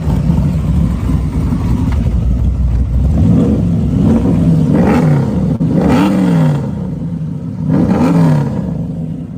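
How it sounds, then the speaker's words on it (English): Muscle car with a custom suede and leather interior revving its exhaust, with repeated deep rising and falling blips over a loud, rumbling idle, close and alone with no talking. "Listen to that exhaust note, it sounds awesome."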